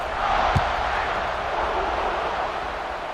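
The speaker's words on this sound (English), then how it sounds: "this crowd is buzzing after that last score" A stadium crowd in an American football video game keeps up a steady, dense roar of cheering, with one short thump early on and no clear talk over it.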